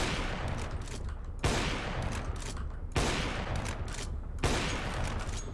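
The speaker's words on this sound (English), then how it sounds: "let's hit some deagle shots" Desert Eagle shots in the video game CS:GO, four loud heavy blasts spaced about a second and a half apart, each with a rolling echo tail, no voices.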